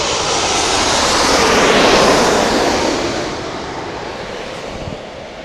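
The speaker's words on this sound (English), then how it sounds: "787-9 Dreamliner. It's coming in from Doha." A Boeing 787-9 Dreamliner arriving from Doha passes over Manchester Airport at night, its loud jet engine roar swelling to a peak and then fading steadily as it moves away.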